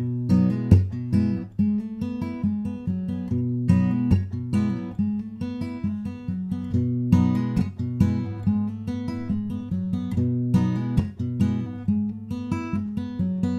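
Acoustic guitar chords of a song strummed slowly and evenly, each chord ringing out before the next change, played alone at close range.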